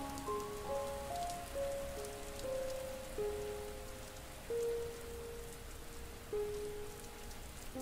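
Steady rain falls in an even, hissing wash of drops on a surface beneath slow, sustained meditative musical tones, with no talking.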